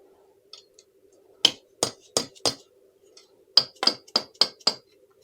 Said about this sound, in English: Soft hammer, not a metal one.